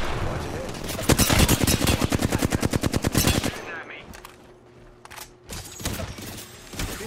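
Rapid automatic gunfire in the battle-royale video game Apex Legends, a loud sustained burst of evenly spaced shots for about two and a half seconds, then scattered single shots with someone talking over them.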